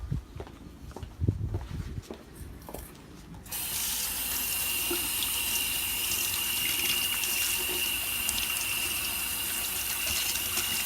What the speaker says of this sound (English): We're going to bring it back over and we'll rinse this off as well.